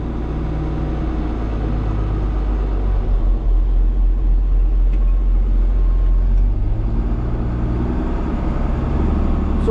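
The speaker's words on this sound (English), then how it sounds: "I'm gonna go ahead and start the tanker up, or start up the PTO, which runs the tanker kind of." A tractor idles with its PTO engaged to run a manure tanker, giving a loud, steady low diesel rumble with a faint mechanical drone throughout and no speech.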